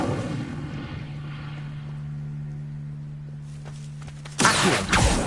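An Incendio fire spell cast in the Hogwarts Legacy video game: a sustained low droning hum gives way to a sudden loud whooshing burst of flame near the end, followed by a second brief flare.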